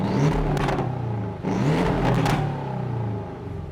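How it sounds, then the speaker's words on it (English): A Porsche 718 Boxster S 2.5 with a manual gearbox rumbles loudly through its exhaust, swelling in two revving surges of deep, throbbing engine note with no voices. "let me just get you to listen to that exhaust sound one more time"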